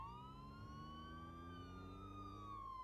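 Police car siren in the driving simulator BeamNG.drive, one steady wailing tone that rises slowly and then falls, moderately loud and alone, with a low engine hum underneath.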